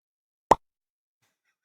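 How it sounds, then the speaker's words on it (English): A single short, soft pop like the Minecraft item drop effect, one quick plop that rises out of total silence and dies away at once. "The Minecraft dropping sound."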